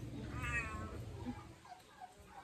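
A cat meows once, close and clear, a drawn-out wavering cry, followed by softer scattered sounds and low background rumble indoors.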